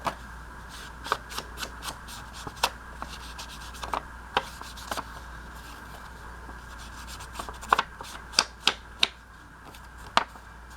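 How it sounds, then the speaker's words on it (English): Distress ink is rubbed onto a craft envelope, producing soft scratchy rubbing strokes with scattered sharp taps and clicks close up, irregular and quiet, with no speech. "I'm just rubbing a little bit of Distress ink on it"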